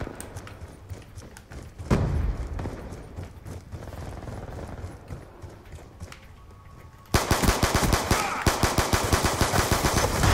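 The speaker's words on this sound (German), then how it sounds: "wenn man aus der Hüfte mit einer Pistole schießt, hast du gar kein Aim" Five-Seven pistol hip-fire in Black Ops 2 multiplayer, starting with scattered gunfire and a heavy thump, then a loud close burst of rapid, sharp shots in quick succession.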